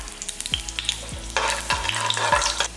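Cashews and cinnamon sticks sizzle in hot oil for chicken biryani, a close, steady frying crackle with scraping stirs and clinks of a spoon against the pan.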